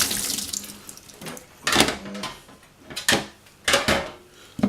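A running sink tap splashes while dishes are washed up after vegetable curry and roti flatbread, with steady water flow broken by several louder clatters and scrapes of crockery and utensils close by.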